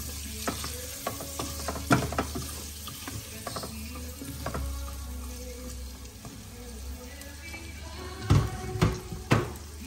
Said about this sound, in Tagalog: Sabay natin sibuyas bawang.